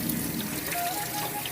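Water runs steadily from a tap while fish are washed, giving a continuous close trickle and splash with no talking.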